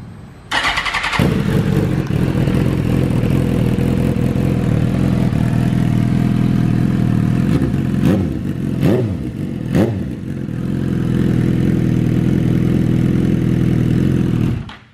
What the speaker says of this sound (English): Let's get a little first startup of this exhaust right here.